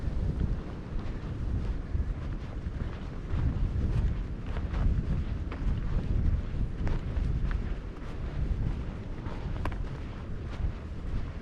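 Strong wind buffeting the microphone along a hiking trail, a continuous loud rumbling roar with gusty swells throughout and no clear talk.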